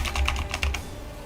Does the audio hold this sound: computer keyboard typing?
yes